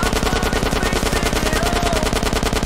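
Rapid automatic gunfire in GTA San Andreas, a loud, evenly spaced stream of shots fired without pause for the whole moment.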